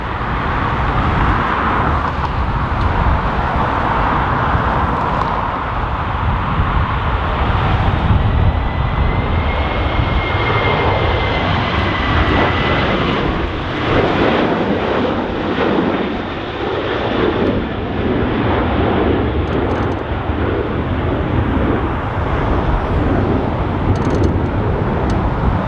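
A Ryanair airliner going around at Dublin Airport in strong winds, a loud continuous broadband engine roar that holds steady and swells slightly throughout, with wind buffeting the nearby microphone.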